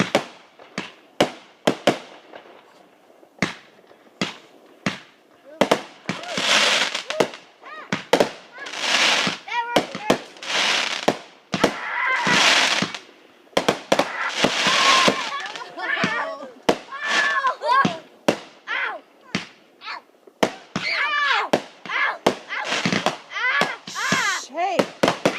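Memorial Day fireworks and firecrackers go off in a long irregular barrage of sharp bangs and crackling bursts, some close and loud, with children talking and calling out between the blasts.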